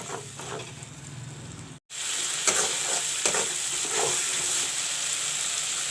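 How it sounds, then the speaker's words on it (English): Ground masala with chili powder frying in a pan, a steady close sizzle with repeated scraping stirs, cut by a brief silent gap before the hiss resumes louder. "let the masala fry nicely"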